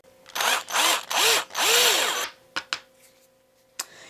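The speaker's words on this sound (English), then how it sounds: "So I gotta drill the rest for these 4." Power drill boring eye sockets into a wooden topwater spook lure, four close, loud whirring bursts with pitch sweeping up and down, followed by a few sharp clicks and taps.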